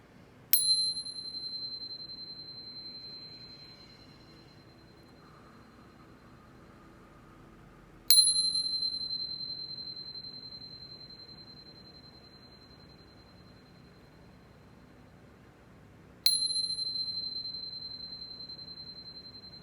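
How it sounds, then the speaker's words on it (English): A chime struck three times at even intervals about eight seconds apart, each bright metallic ring clear and close, then decaying slowly into near silence before the next strike. "But first, let's chime."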